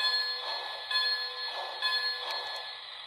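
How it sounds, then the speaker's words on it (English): The electronic bell sound of a Polar Express model train locomotive, run with an EZ Control center and Lion Chief remote, rings in three even pulses, bright and steady, with no speech. "number 1 is the bell."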